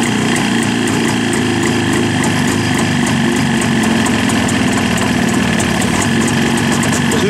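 Jawa motorcycle engine idling steadily while its carburetor is adjusted, a loud, close, continuous two-stroke putter with a fine rapid rhythm, heard alone.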